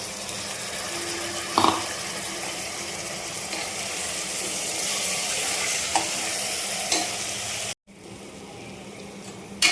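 Chopped tomatoes fry in a pan for a mutton and broad bean curry, giving a steady, close, loud sizzle with a few faint clinks of stirring and a brief drop-out near the end.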